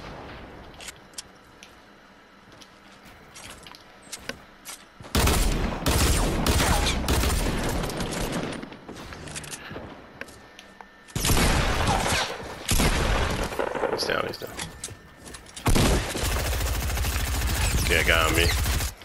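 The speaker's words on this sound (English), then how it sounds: "On me, literally shooting at me." Enemy gunfire in a battle royale video game: bursts of loud, rapid shots come in several heavy waves, broken by quieter stretches of scattered game sounds and faint clicks.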